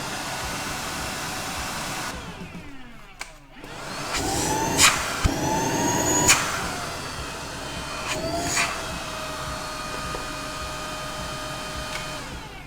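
Tineco Pure ONE S12 cordless vacuum running in auto mode, a loud, steady close motor whine that briefly drops out, then rises with shifting pitch sweeps and a few sharp clicks.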